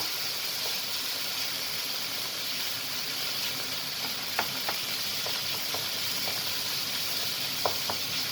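Pine nuts roast in a pan with a steady, soft frying sizzle and a few faint scattered clicks as they are stirred.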